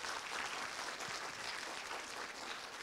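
Audience in a hall applauds steadily for about three seconds, a dense, even wash of clapping at moderate level with no voices over it.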